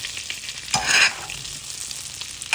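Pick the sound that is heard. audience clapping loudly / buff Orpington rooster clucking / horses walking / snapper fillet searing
snapper fillet searing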